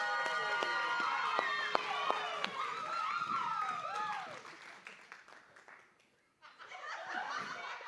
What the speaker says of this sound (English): a much brighter, louder round of applause for one of my very good friends